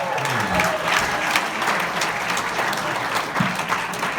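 A comedy club crowd applauds comedian Joe Dosch as his set ends, a full, steady wash of clapping with a few cheers and whoops mixed in, fairly close and continuous.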